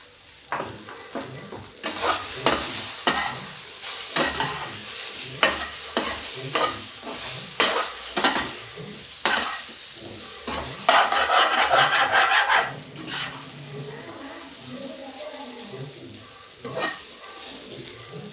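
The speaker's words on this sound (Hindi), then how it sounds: "अब इसको हम 5 मिनट भूनेंगे।" Pieces of taro (arbi) are stir-fried with spices in a pan, with a steady sizzle under repeated scraping strokes of a spoon, loud and close, and a denser crackling burst midway through.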